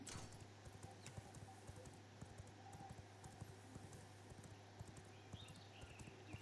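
In a video game, V Rising, a horse's hooves clop quickly and evenly at a gallop, faint against a steady hum with a brief whinny-like sound partway through.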